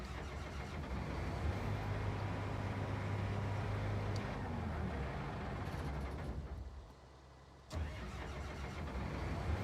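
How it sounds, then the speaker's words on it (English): Tractor engine in the Farming Simulator 19 video game, a steady loud mechanical rumble with a low droning hum that drops off briefly, then cranks and starts again into a continuous running roar. "Nice startup sound."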